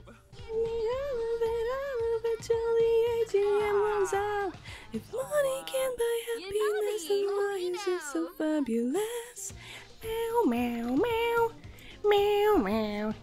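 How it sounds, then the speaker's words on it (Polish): A Sims 4 game tune with a bright synth melody that includes meow-like cat sounds, with a voice talking intermittently over the music. "Takie miauczenie tam słyszę w tej piosence zawsze."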